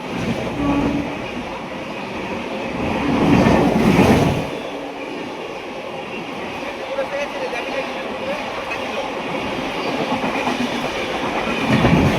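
A local train runs steadily on its way toward Mandarmani, its rumbling, rhythmic wheel clatter continuous and close, swelling briefly partway through, with faint voices in the background.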